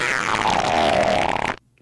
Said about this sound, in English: I can hear his fart.